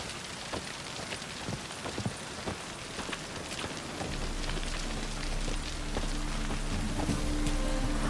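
Steady rain falling across an outdoor scene in The Witcher 3: Wild Hunt, a dense continuous patter of drops that thickens and grows louder partway through, with no talk over it.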